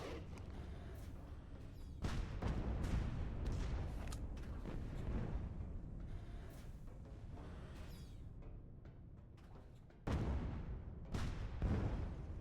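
Heavy explosions and booming blasts erupt in the Alien Breed Impact video game, a rapid run of deep thuds and crashes layered over a continuous rumble, with a fresh burst of sharp detonations near the end.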